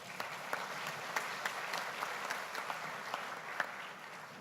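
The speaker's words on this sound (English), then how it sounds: "You may applaud Jim." An audience at a session meeting applauds steadily, with sustained clapping and a few sharper individual claps standing out, at moderate distance throughout.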